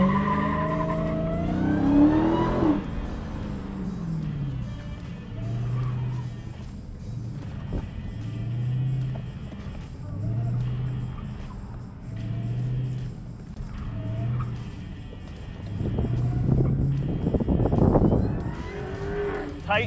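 A Dodge Challenger is pushed hard around a timed lap, tires squealing and skidding through repeated turns while the engine revs rise and fall, with brief tire howls recurring close by throughout.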